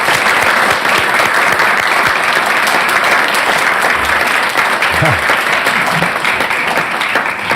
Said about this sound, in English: let's give Sue a round of applause and a thank you.